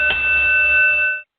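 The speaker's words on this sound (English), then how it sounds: "You can't start the match until you ring the bell." A single bell struck once for the start of a wrestling match, ringing out clear and loud, then sustaining a bright tone for about a second before cutting off.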